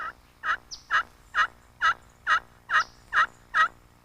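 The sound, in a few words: slate turkey call imitating turkey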